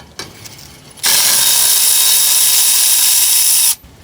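A ratchet on a Toyota Hilux brake caliper bolt gives one loud, continuous buzzing run of about three seconds, close up, with a short quiet mechanical rattle just before it.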